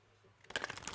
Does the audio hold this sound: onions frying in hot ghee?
no